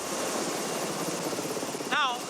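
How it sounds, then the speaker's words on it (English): A helicopter on the route to the Tremiti Islands in Italy gives a loud, steady rotor and engine roar throughout, with a brief sharper whine near the end. "You can use an helicopter, which flies 2 times every day"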